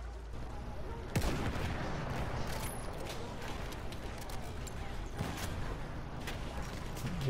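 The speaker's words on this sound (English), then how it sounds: "I think it's an artillery cannon or something." Artillery cannon fire in the Battlefield 1 video game on the Monte Grappa map, with a heavy boom near the start and another midway through a dense, rumbling battle din of gunfire and mechanical noise.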